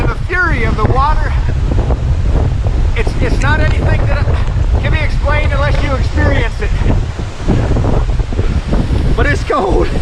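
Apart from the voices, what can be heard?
roaring waterfall water in Bechler Canyon, Yellowstone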